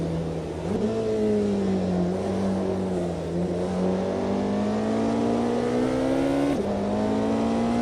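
A Porsche 918 driven in Automobilista 2 on a California highway at sunset, its engine droning steadily close up with a slowly rising pitch, a brief dip and shift near the start and again near the end, no talking.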